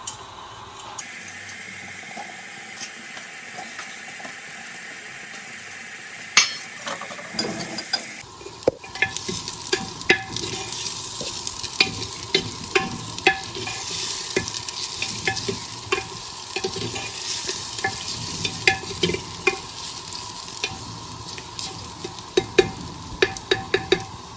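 Onions frying in a clay pot for dal: after a quiet start and some handling knocks, a steady sizzle sets in with frequent scraping stirs and sharp clicks, close and continuous, with no voices.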